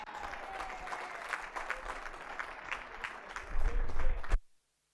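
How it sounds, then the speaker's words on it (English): Audience applause at a sport confederation gala dinner in the Western Cape, a steady crowd of hands clapping for several seconds with a voice over a sound system speaking on top, swelling near the end before stopping abruptly. "Applause going, please, ladies and gentlemen."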